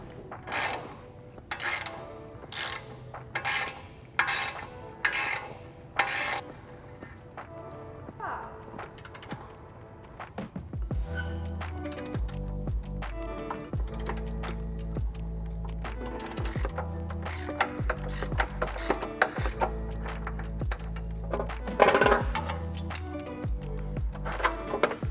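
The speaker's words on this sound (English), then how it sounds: "first we're going to use a 21 millimeter socket to get this nut off of the ball joint" Ratchet with a 21 mm socket working a ball joint nut loose on an Audi B9 front control arm, heard as close bursts of rapid metallic clicking, sparse at first and then denser over a low rumble.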